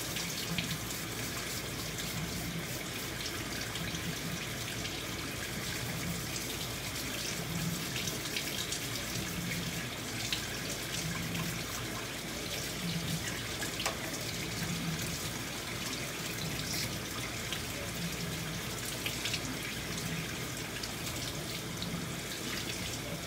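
A sink faucet runs in a steady, unbroken stream during handwashing with a nail brush, the water hiss filling the scene at an even level throughout.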